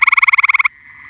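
A loud, close gray tree frog trill at a pond in mid-spring: a rapid run of about a dozen pulsed notes, then a fainter sustained tone as it fades.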